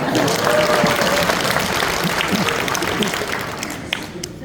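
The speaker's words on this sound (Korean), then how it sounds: "박수 해주십니다" Loud, dense applause from an audience at a blockchain lecture, sustained clapping that carries on evenly for several seconds with only a slight fade.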